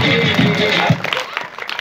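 Audience applause and clapping for a contestant walking on at a school Christmas celebration, a dense burst of clapping that thins out over about two seconds, with a voice briefly over it.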